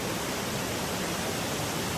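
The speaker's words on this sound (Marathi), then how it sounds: "आता मध्ये वाटत एक असं धबधबा टाईप दिसले तिथं आले" Broadband rushing roar of a roadside waterfall, steady and unbroken throughout with no voices, heard close up on a rainy road trip from Kolhapur to Kasheli.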